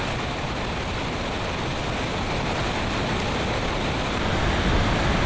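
A powerful waterfall on the Mekong River pours down in a dense, constant roar, loud and unbroken, with no voices over it.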